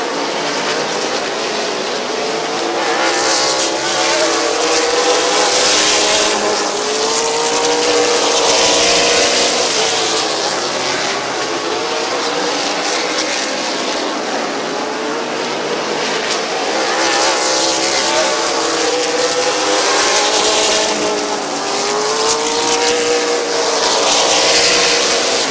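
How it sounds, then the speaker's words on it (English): Race cars at Midvale Speedway roar past in loud waves, engines rising and falling as the field sweeps by, tires spinning at the start, with steady crowd-level track noise underneath. "Tough break for Cody Jayberg, spinning the tires on the start"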